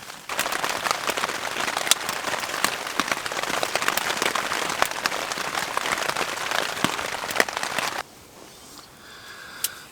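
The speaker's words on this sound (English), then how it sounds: "The rain's picking up outside." Rain falling at night on a hot tent, a dense patter of sharp drops striking the fabric close by, heavy and busy for most of the stretch before easing to a lighter, quieter fall.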